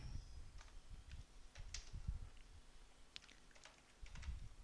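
Scattered keystrokes on a computer keyboard, entering a command at a prompt, come in short irregular bursts with pauses between them, faint and close against a quiet room hum.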